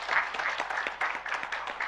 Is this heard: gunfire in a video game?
no